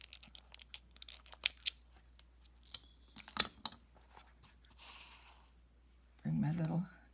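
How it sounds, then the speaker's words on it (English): Scissors snip through cord ends close to a knot on handmade protective children's shoes, a series of crisp, close cuts and crunches at an uneven pace, followed by a brief voice at the end. "I'm going to cut these ends off"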